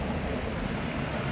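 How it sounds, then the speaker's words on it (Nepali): A large flow of water rushes from a main water supply pipe, a brief, steady broadband roar heard up close with no voices. "यहाँले देखिरहनु भएको छ यति ठुलो पानी आइरहेको छ अहिले"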